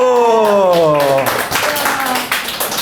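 An audience breaks into applause at a Korean talk: a voice first rings out loudly, then quick scattered clapping builds close by and keeps going in uneven bursts.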